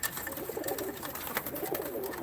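Game pigeons at a pigeon auction in Ankara coo in soft repeated bursts, close by, with clattering and shuffling around them.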